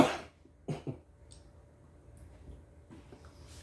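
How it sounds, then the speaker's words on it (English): Two short, close coughs, one sharp burst at the start and a quick double cough about half a second later, then quiet room tone. "sorry for the cough"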